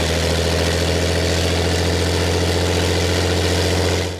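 An Allison V-1710 aircraft engine runs on a dynamometer, a loud, steady, close droning rumble that holds an even pitch throughout.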